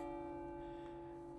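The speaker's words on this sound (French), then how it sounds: "nous avons les cloches" Abbey church bells ringing, a sustained steady metallic hum with a lingering ring, faint and distant with no voices.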